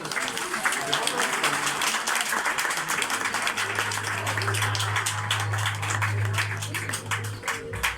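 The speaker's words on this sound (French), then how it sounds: "Un petit applaudissement." An audience at an eagle show in a bird park at Sciez-sur-Léman applauds steadily, a dense, even patter of many hands that holds for several seconds before tapering off, with a low hum running underneath.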